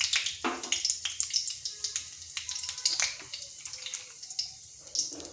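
Bay leaf, dried red chilli and whole cumin seeds hit hot oil in a kadai, giving a close, bright crackling sizzle with scattered pops and a few clinks, steady through the short stretch.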